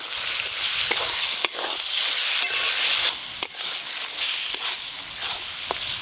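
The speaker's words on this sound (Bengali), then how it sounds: "খাসি মাংসের জন্য মশলা কিন্তু এরকম খুব ভালো করে কষতে হবে" Spice paste with dry red chilli paste, chopped tomato and salt fries hard in a pot for mutton curry, a dense close sizzle punctuated by sharp scraping strokes of a spoon stirring at irregular intervals.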